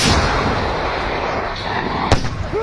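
An anti-tank grenade launcher fires in combat, a loud blast at the start followed by rumbling noise and a sharp secondary crack near the end.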